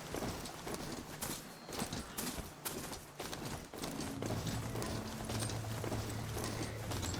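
Horse hooves clip-clop at a steady riding pace in the video game Horizon Forbidden West, mixed with mechanical game sounds and a low droning background, moderately loud throughout.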